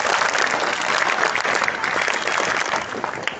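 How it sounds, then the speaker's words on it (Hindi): A room full of children claps loudly and continuously, a bright, dense roar of many small hands close by, with no talking over it. "तो एक बार अपने लिए भी जोर से सब तालियां बजा दीजिए।"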